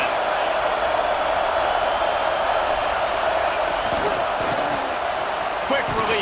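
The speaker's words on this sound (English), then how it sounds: "This crowd trying to make life miserable for this offense." Stadium crowd roaring throughout an LSU versus Oklahoma college football video game on veterans and senior day, a loud, steady wash of fan noise with a few sharp thumps and swells near the end.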